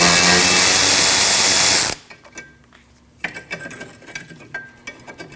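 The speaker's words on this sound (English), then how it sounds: "Now you need to remove this 12mm bolt from this arm." A ratchet clicks while removing a 12mm bolt from the rear lower control arm of a 2003-2008 Subaru Forester, close bursts of sharp mechanical clicks following a loud burst of noise at the start.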